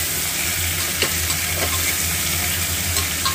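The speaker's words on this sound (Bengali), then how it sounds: "ভালোভাবে আমি একটু নাড়াচাড়া করে নিব, অর্থাৎ কষিয়ে নেব" Raw banana curry stir-fried with spices and ground black pepper, a dense, steady close-up sizzle with occasional faint scrapes of stirring.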